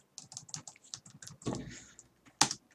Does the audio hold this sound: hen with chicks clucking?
no